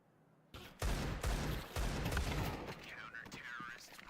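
Counter-Strike gunfire: several loud, sharp bursts of shots in quick succession, close and punchy, fading into quieter clatter and a faint ricochet-like whine at the end.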